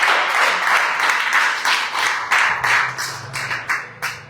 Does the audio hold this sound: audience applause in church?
yes